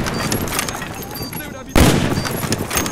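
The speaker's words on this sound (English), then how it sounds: "fire those warning shots" Gunfire from the Call of Duty Black Ops video game, a sudden loud burst of shots about halfway through over a steady din of game battle noise, with players talking during the match.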